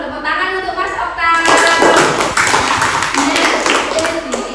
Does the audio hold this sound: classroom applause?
yes